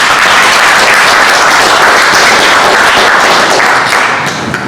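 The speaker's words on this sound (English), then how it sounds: "Let's give a round of applause for Demetra McBride, Megan Rico, and Arian Shelton" A closing-night audience applauds the production team, loud dense clapping from a large crowd that holds steady and then begins to thin slightly at the end.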